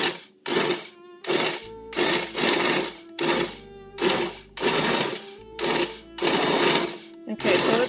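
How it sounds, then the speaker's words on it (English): An immersion blender whirs through vegetable soup in repeated short bursts, a loud buzzing motor that pulses on and off roughly every second, with the pitch shifting as it churns the chunky mixture. "I do have an immersion blender, and I am actually going to blend some of this"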